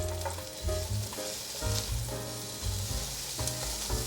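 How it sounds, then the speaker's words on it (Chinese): Green, red and yellow bell peppers stir-fried in olive oil, giving a loud, steady close-up sizzle with stirring, over low tonal background music and no speech. "锅内放入适量的橄榄油，放入青椒、红椒、黄椒进来炒，先略炒一下"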